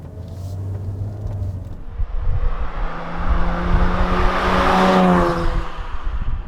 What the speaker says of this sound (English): Now let's go out and drive this Jaguar F-Type.